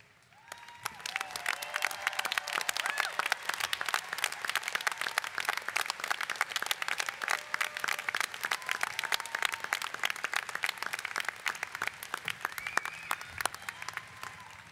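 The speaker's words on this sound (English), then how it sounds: "give them a huge round of applause" A large audience at a 2019 communications graduation ceremony applauds the graduating students, steady dense clapping that swells in and holds for about fourteen seconds, with faint crowd murmur underneath.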